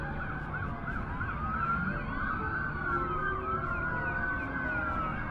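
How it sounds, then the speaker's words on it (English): Several police sirens wail together, their pitches sweeping and overlapping continuously at a steady, fairly loud level. "It's a lot of police cars."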